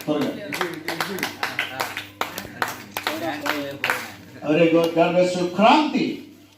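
Congregation at a watch night church service clapping in an even rhythmic beat, moderately close, with a voice talking over the claps and then alone toward the end.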